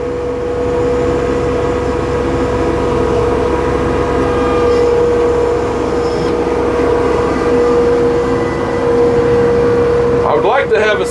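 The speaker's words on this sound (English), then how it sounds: "I'm using a 5-foot tiller. It's a country line." A tractor runs a 5-foot Country Line tiller, its engine a loud, steady close drone with a constant hum throughout, broken by a brief squeak near the end.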